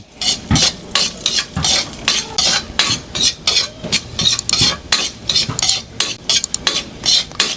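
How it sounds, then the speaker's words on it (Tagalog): Ginger sautés in a pan for a fish dish, with loud rhythmic stirring scrapes of a utensil against the pan repeating roughly every half second over a faint sizzle. "ang next step natin, magigisa tayo ng luya"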